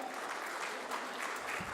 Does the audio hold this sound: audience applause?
yes